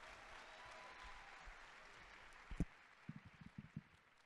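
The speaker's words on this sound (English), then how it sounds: "Give another round of applause for Jasmine." Faint, distant applause from a conference audience after a poetry slam winner, a soft steady wash of clapping with a few louder thumps and knocks near the end.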